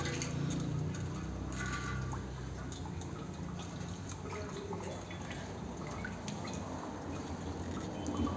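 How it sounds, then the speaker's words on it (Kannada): Water gushes forcefully from an opened, badly fitted pipe fitting, a continuous loud rushing and splashing that stays steady from start to finish, close and without voices. "ಫುಲ್ ನೀರು ಫೋರ್ಸಾಗಿ ಬಂದ್ಬಿಡುತ್ತೆ."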